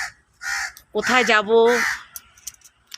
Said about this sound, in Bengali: কাকটা এত ডাকছে